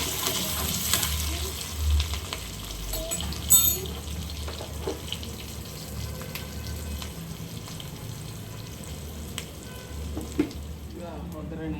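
Curry leaves, onion and chilli frying in a pan as a tempering for cabbage sambar, a continuous moderate sizzle with occasional stirring clatter and a low background hum; no talking.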